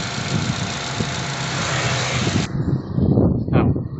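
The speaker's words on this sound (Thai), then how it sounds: "ทีนี้เราก็จะมาลองดับเครื่องกันนะครับผม" A car engine idles steadily with a broadband rumble, then is switched off and cuts out abruptly; a few quieter knocks and handling sounds follow nearby.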